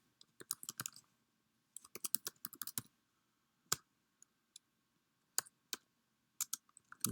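Quiet bursts of keystrokes clatter on a computer keyboard as game movement code is typed, irregular clusters of clicks separated by short pauses, close and alone.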